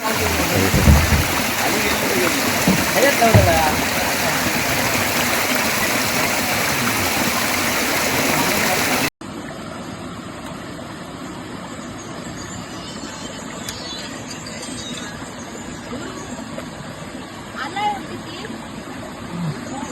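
A perennial waterfall and flowing stream at Khavane in Konkan give a loud, dense rush of water, then cut abruptly to a quieter, distant trickling with faint ambient sounds.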